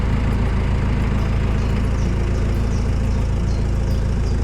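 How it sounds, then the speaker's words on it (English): A camper van's engine idles steadily, giving a constant low rumble that sits close and fairly loud, with no talking over it. "I'm going to keep the engine on for a bit"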